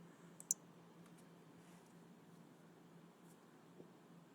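A single sharp computer mouse click sounds near the start, with a fainter click shortly before it and another later, over a quiet steady hum of fan noise.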